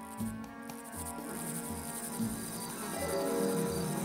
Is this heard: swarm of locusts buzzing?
yes